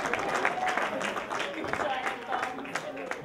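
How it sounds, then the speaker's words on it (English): A crowd at a Christian magicians' fellowship program claps for a performer's husband, a moderate round of applause with voices mixed in underneath. "give my husband a big round of applause"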